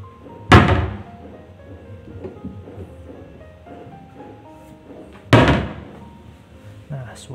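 An ordinary hinge on a wooden cabinet door snaps shut twice, each a sharp, loud, harsh thunk about five seconds apart, with quiet handling noise and faint talk between.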